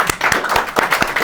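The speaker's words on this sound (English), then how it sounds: "who applauds himself." A single man applauds himself at a humanist election event, brisk close hand claps in a quick, slightly uneven run of about six claps.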